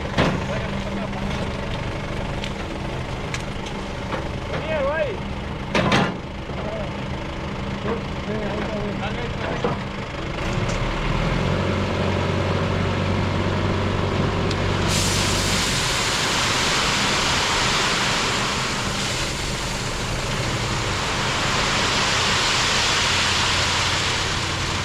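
A truck delivers a load of gravel to a house building site: a steady engine rumble gives way to a long, loud rushing hiss as the gravel pours out and keeps sliding.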